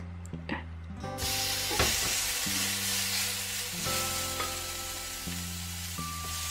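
Peri-peri shrimp sizzling on a hot pan, a bright steady frying hiss that starts abruptly and continues throughout, with tonal music playing underneath.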